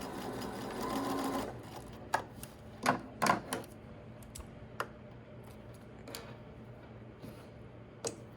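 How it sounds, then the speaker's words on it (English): A sewing machine back-stitching the end of a seam on a zipper bag, with a steady mechanical run for the first second and a half, followed by scattered sharp ticks and clicks as the stitching stops. "and then just back stitch when you reach the end."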